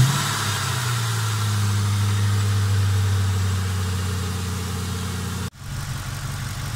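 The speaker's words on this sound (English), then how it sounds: "I'm going to go ahead and start this up" A Ford Mustang V6, with its serpentine belt newly replaced, runs at a steady close idle, a continuous low hum that cuts off abruptly near the end and then resumes more quietly.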